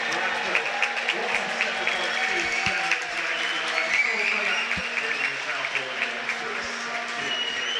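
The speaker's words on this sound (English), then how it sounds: "And a big cheer, that came from the South Pool" Spectators cheer and clap at an indoor pool during a university short-course swimming championship para heat, a steady, echoing roar of voices and applause lasting throughout with scattered sharper claps.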